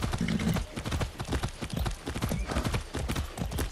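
Horse hooves clip-clop in steady rhythm in Far Cry 6, the hoofbeats close and clear over a low ambient bed, with a faint whinny-like sound mixed in.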